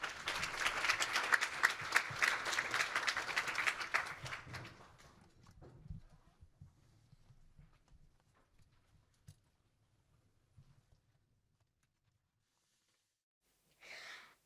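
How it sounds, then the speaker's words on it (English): Loud applause from a crowd at a children's world peace summit fills the first few seconds, then fades out into quiet scattered clapping and near silence. "Please give a big round of applause to her."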